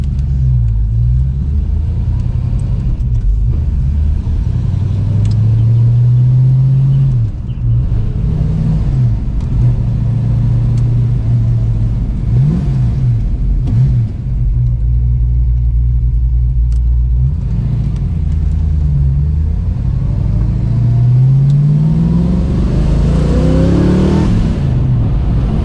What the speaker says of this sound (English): Sound V8 engine, 289 inch cubic